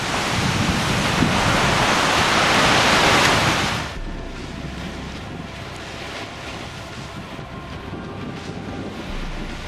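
Ocean surf and wind on a beach at Ledge Point, a loud broadband rush for the first four seconds, then dropping to a quieter, steady wash of waves and gusting wind.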